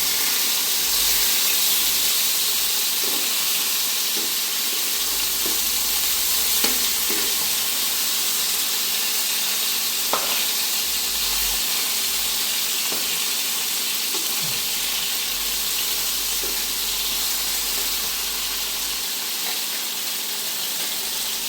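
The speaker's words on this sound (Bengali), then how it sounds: "মাছগুলি এখন উল্টে দেবো, দেখেন কি সুন্দর করে ভাজা হয়েছে" Catla fish fillets frying in a pan for a spiced fish bhuna, giving a steady, loud sizzle throughout with a few faint clinks and stirring touches as the pieces are turned.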